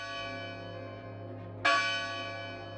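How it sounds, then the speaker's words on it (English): A bell in the Rebel Cops video game gives a single resonant strike partway through and then rings on with a long decaying tone over a steady low background hum. "there's the third bell"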